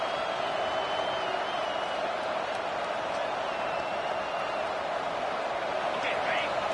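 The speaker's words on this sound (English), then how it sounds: "Listen to this crowd just shaking the girders of this place, trying to help their defense." A packed college football stadium crowd roars in a steady, dense wash of noise during a game between Ole Miss and Florida State, with a commentator talking over it.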